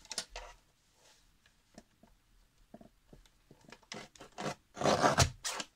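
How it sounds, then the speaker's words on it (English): Scissors cut through pages for a recycled insert book, giving close, crisp snips and scraping paper rustles in uneven bursts that grow louder toward the end. "I think I can cut that bottom part."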